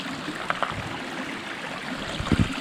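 A mountain creek on Mount Rainier in snowy winter rushes steadily over rocks, a close, continuous watery wash with a couple of brief knocks and splashes near the end.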